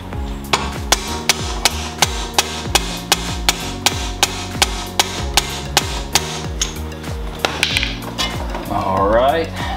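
Hammer taps seating the top of a K-sport coilover on a BMW E60, about twenty sharp, evenly spaced metallic knocks close by, with some shuffling and handling noise toward the end.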